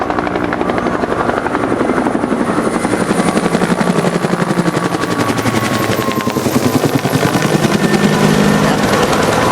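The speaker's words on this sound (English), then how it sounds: "the gunship can now be fired into the tree line as they drop the smoke" A helicopter gunship at a Vietnam War reenactment thunders close and loud with steady rapid blade chop, overlaid by bursts of gunfire throughout.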